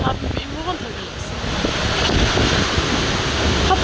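Sea waves crash and churn on a beach under stormy wind, a loud steady wash of surf with wind buffeting the microphone throughout.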